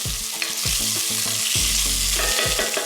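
Chopped carrots cook in a soup pot with a loud, continuous sizzle and crackle close up, while background music plays throughout.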